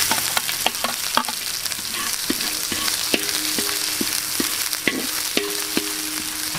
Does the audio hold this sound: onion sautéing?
yes